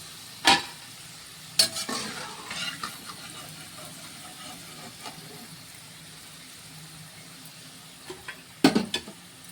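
Bitter gourd pieces frying in oil for kakarakaya pickle, a low quiet sizzle with a few sharp scraping or clinking stirs at the start and end, close and without talk.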